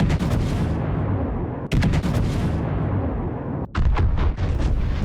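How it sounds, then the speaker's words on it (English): Großer Kurfürst battleship main guns firing in World of Warships: three loud, booming salvos, each a sharp crack followed by a long rumbling roar, the last one splitting into rapid successive blasts, with no talking. "One other thing I've noticed with the guns of the Kurfürst is this."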